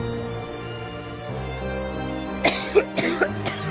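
Several sharp coughs come in a quick cluster near the end, close and distinct over a soft, steady musical background.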